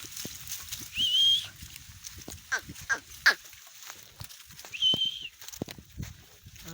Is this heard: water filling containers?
no